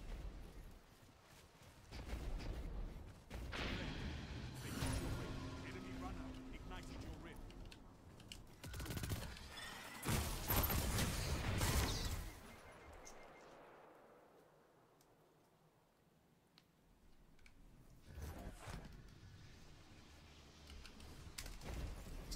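Submachine gun fire from the Manticore in Destiny 2, heard as bursts of rapid shots and impacts mixed with game effects, loud in places and fading to a quieter stretch midway.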